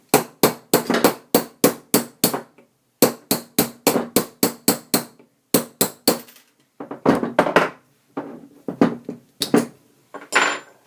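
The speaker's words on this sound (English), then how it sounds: "you need a punch and a hammer." A hammer strikes a punch to drive the roll pin out of the trigger valve on a Porter Cable FR350 Type 2 air nailer. Close, sharp metallic taps come in quick rhythmic bursts separated by short pauses.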